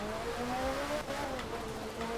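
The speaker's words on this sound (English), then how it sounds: "it's definitely the 405. It looks like a Peugeot. It sounds like a Peugeot." Peugeot 405 Dakar rally car driving at speed, a steady engine drone with rising harmonic whine through the whole stretch, close and continuous without speech.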